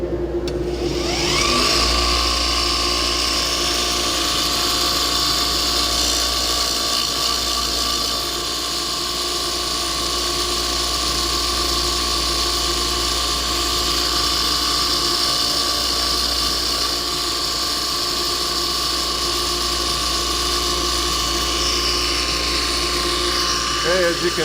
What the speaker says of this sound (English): take it down with a little bit finer belt that I have